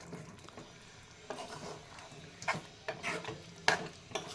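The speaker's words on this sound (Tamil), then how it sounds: "உப்பு போட்டு நல்லா கலரி விட்டுக்குங்க." Spoon stirring mutton chukka gravy with salt in a pan, giving soft scraping strokes that grow into several sharper clinks and scrapes over a quiet background sizzle, close and fairly faint.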